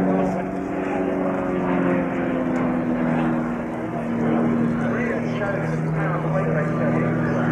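A Lockheed Hercules four-engine propeller transport drones steadily at the RAF Fairford air display, a loud continuous throbbing engine and propeller roar with no pauses.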